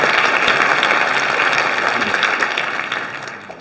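A theatre audience applauds after a student stage performance about Terezin and the children of the Holocaust, a dense, steady wash of clapping that holds loud and then gradually fades toward the end.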